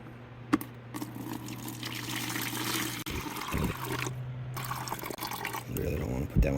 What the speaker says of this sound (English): I think I'm just going to dump some of the water